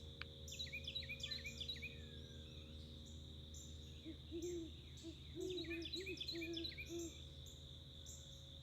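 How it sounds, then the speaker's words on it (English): An owl gives several soft, low hoots in a short series, distant and faint, over a constant chorus of insects and occasional chirping birds. "Did you see my owl?"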